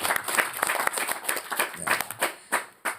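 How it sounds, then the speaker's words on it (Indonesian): An audience at a village tourism training session bursts into brief applause, separate claps audible in a short burst that thins out toward the end. "Tepuk tangan."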